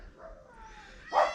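A dog gives a brief whimpering whine followed by one short, loud bark at the end, close by.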